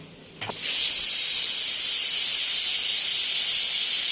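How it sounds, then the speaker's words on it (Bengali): A pressure cooker on a kitchen stove vents steam in a loud, steady hiss that bursts on after a brief quiet moment and holds unbroken to the end. "আসলে এই প্রেশার কুকারটা অনেক বিরক্ত করছে।"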